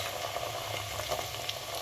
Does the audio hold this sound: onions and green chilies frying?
yes